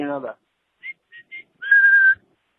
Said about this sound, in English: will the Yankees still play the PC Richards and Sons whistle after strikeouts?